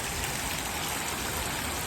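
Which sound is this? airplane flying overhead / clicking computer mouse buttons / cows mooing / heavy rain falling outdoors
heavy rain falling outdoors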